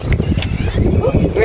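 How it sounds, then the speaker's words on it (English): Gusty wind buffets the microphone with low rumbling bursts at Sunset Beach, St. Catharines, while a person talks. "It's windy, so it is a little bit chilly."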